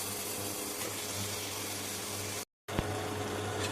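Half a kilo of chicken sautéing in tempered spiced masala with curry leaves for green chilli chicken kurma, a steady close sizzling hiss with a brief silent break partway through.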